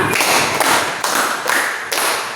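Close, bright hand claps from a teacher's 'clap five' classroom pattern in a group guidance session: five even claps in a steady beat, with nothing else heard.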